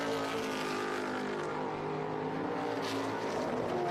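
Trans Am road race cars circuit the track in a pro racing event, a steady, fairly faint engine drone from a distance that stays constant throughout.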